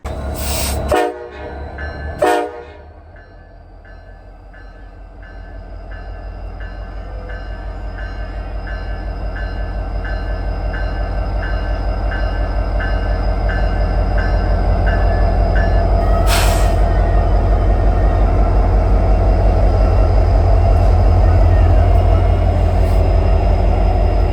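A freight train rumbles past close by in New York State with a steady low roar that slowly builds, marked by a brief clank near the start.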